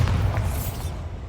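A Bombarda spell explodes in the Hogwarts Legacy video game, a deep, heavy boom with rumbling low end that fills the whole moment, loud and close.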